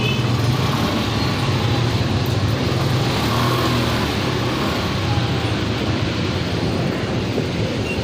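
Road traffic with tricycles on a congested street near a school zone, a steady dense rumble of engines and passing vehicles heard continuously at close range, with no clear voices.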